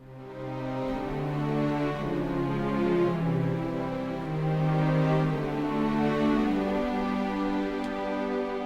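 Soft orchestral passage of low sustained woodwind lines, breathy flute tones doubling a slow-moving lower voice under gentle harmonies.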